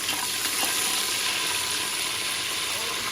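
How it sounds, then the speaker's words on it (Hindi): Frozen ginger garlic paste frying in hot oil in a home kitchen, a continuous close, bright sizzle with occasional stirring scrapes, steady and unbroken throughout. "अभी जो है वो ऑलमोस्ट फ्राई हो रहा है।"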